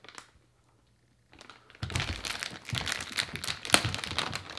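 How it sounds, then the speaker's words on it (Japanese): A package is opened by hand: after near silence, a quiet rustle starts, then turns into loud, close crinkling and crumpling of plastic wrapping with a few sharp crackles. "これちょっと開けて、あ、開封してみましょう。"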